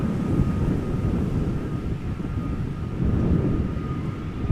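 A Norwegian airliner departs Amsterdam Schiphol with a loud, deep, steady engine rumble that surges gently, while wind buffets the microphone throughout.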